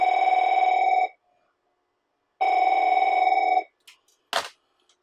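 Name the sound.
AT&T Merlin telephone ringing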